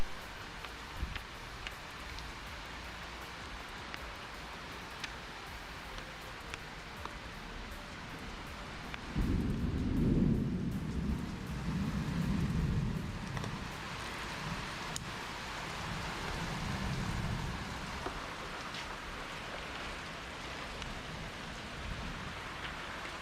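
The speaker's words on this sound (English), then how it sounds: "And here comes the rain." Rain falls steadily at a car tinting job on a Kia K5, with a low, louder rumble like thunder rolling in partway through before the downpour settles back to an even hiss.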